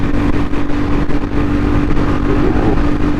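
A Royal Enfield Classic 350 Next Gen motorcycle runs at speed in fourth gear with a loud, steady engine drone and a sustained hum, with wind roar throughout and no clear gear change.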